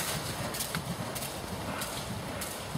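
A horse's hooves clip-clop on the ground during a riding lesson at a show-jumping clinic, a steady rhythmic beat of repeated hoof strikes, moderately close, with no talk over it.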